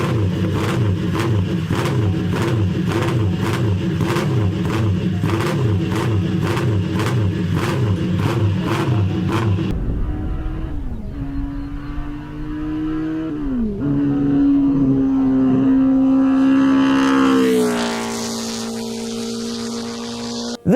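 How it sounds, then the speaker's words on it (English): A 1960s Italian carbureted two-stroke small-displacement motorcycle engine blips in a rapid, regular burst of throaty barks for about ten seconds, then revs rise and fall with rising pitch sweeps before climbing hard near the end, loud and close with no talk. "60s carbureted 2-stroke small displacement fun in a throaty barking package."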